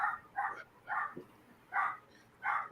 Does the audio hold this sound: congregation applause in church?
no